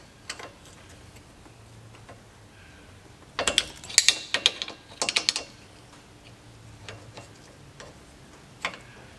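A small ratcheting spanner ticks in a quick cluster of sharp metallic clicks at mid-clip, with a few scattered clicks before and after.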